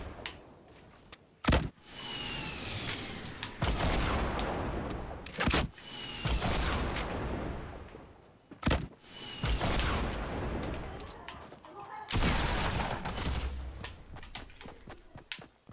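Gunfire rings out in the video game Fortnite in repeated loud, sharp shots, some in quick bursts, set against a continuous noisy game background with no speech.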